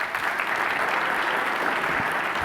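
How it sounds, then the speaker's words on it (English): Dense audience applause at a mentorship talk, a continuous full burst of many hands clapping, fairly loud and even throughout the short stretch, with no voices over it. "Give them a round of applause"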